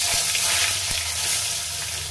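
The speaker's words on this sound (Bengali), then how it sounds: "আমি এক এক করে আলুগুলোকেও দিয়ে দেবো।" Potatoes going one at a time into hot oil seasoned with cumin seeds and bay leaves, a loud, steady close sizzle broken by a few sharp taps as pieces drop in, with no talking.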